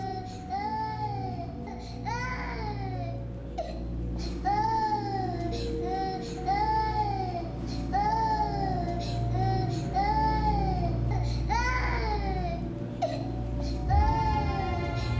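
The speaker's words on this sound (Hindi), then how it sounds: "तुम्हारा बच्चा रोता बहुत है।" An infant cries in repeated wailing bursts indoors over a steady low hum, fairly distant and soft, without any talk.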